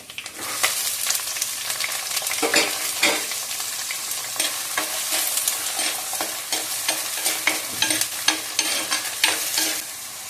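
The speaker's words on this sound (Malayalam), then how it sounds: "നന്നായിട്ടൊന്ന് വഴറ്റിയെടുക്കാം" Onion, tomato, green chilli and curry leaves sautéing in a pan, with loud close sizzling and frying broken by repeated scraping, stirring strokes from a spoon.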